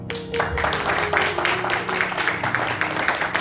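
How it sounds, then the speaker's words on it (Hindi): Applause from a church congregation at a Pakistani Punjabi Urdu church's three-month celebration, a steady dense patter of clapping filling the room, with a faint sustained tone underneath. "जी तालियां"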